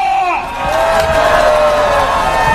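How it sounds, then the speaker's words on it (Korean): A large crowd at a political campaign rally in Geoje, South Korea claps and cheers loudly and continuously, a dense roar of applause with voices rising through it. "여러분 큰 박수 부탁드립니다."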